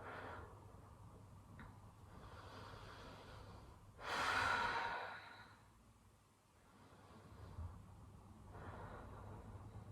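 Slow breathing during a yoga session, soft and close, with one long audible exhale standing out in the otherwise quiet room.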